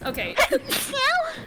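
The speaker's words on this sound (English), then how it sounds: "Why must you sneeze like this?" A person sneezes sharply once amid a lively tabletop role-playing game session, with several voices talking and reacting around it at close range.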